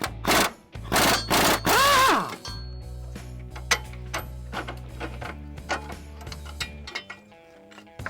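A wrench turns an 18mm nut on a car bolt while parts are pulled from a car: a loud mechanical burst at the start, then a run of sharp ratcheting clicks over a low steady hum.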